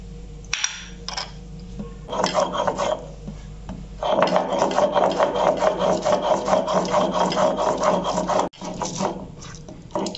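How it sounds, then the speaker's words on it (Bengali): Grated coconut being ground into a paste by hand in a Bengali home kitchen, a steady rough rasping scrape with a pause near the start, then continuous rhythmic grinding strokes, close and fairly loud. "নারকেল কোড়াটা আমার বাটা হয়ে গেছে।"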